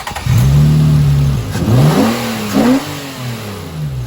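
A 7th-generation Nissan Maxima engine, stock before a cold air intake install, revs loudly up and down in several close blips from idle, with no talking.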